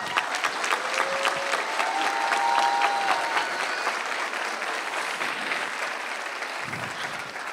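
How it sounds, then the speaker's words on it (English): Big round of applause from a crowd at a school district student awards ceremony, dense and sustained clapping with a few whistles early on, fading gradually toward the end. "let's give the students a big round of applause"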